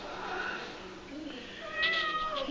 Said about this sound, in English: You're a big old kitty cat.